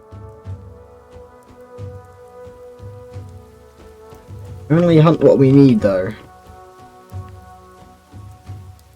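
Steady rain patters through a Stone Age settlement in the survival strategy game Dawn of Man, with soft drops continuing under game music while someone talks briefly over it midway.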